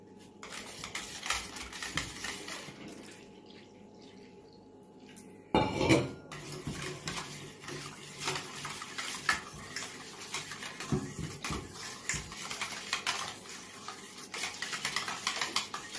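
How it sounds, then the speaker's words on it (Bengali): Kitchen sounds of dahi vada batter being whisked with salt in a bowl, with steady scraping and clinking of utensil on the vessel, a sharp clatter partway through, then water being poured in, close and fairly quiet, no talk. "লবণটা দিয়ে একটু ফেটিয়ে নেওয়ার পর আমি এখানে একটু জল দিয়ে দেবো।"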